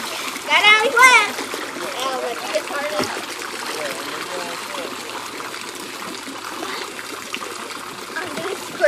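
Children splash and swim in a pond, a burst of splashing near the start giving way to steady trickling water and small splashes, with kids talking and shouting throughout.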